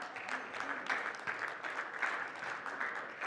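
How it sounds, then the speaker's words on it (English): Faint, distant clapping from an audience greeting a speaker called up to a stage, a soft continuous patter of many hands with no voices. "let's give a big round of applause for Tom"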